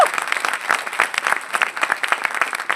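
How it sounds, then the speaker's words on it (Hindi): Dense, steady clapping from a seminar audience in Prayagraj fills the room for a few seconds, many hands overlapping with sharp individual claps poking through. "इसीलिए मैं ताली बजा रहा हूँ"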